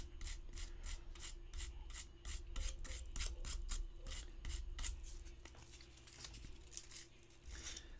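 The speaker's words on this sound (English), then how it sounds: "Just gently sand it a little bit." Sandpaper rubs gently over resin model parts of a Xenomorph Queen and Predator kit to smooth the seamlines, making quick rhythmic rasping strokes close by with no speech.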